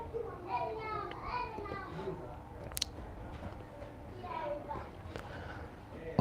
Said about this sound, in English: there are kids playing out